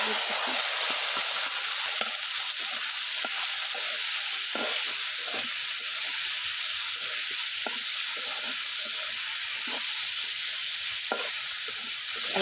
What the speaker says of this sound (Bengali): এই তোমার পেঁয়াজ রসুন ভাজা হয়ে গেছে।